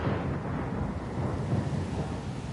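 A video game thunderstorm with steady, dense rumbling thunder and rain, loud and continuous throughout, with no voices.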